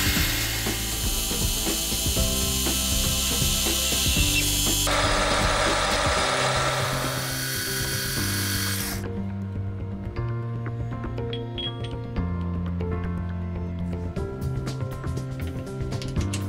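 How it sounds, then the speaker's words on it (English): Steel arbor ends being faced and center drilled on a lathe, the part held in a four-jaw chuck: a steady, loud mechanical whir and ratcheting chatter of cutting that continues throughout with no talk. "and then faced and center drill the ends."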